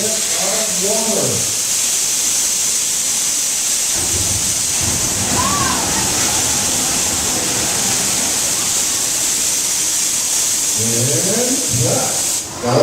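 A special-effect deluge of about 1,000 gallons of cold water roars steadily on a Disney's Hollywood Studios backlot tour, a dense continuous rushing hiss with people talking over it at the start and end.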